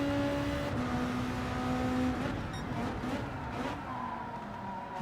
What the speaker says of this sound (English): This car has a great third gear.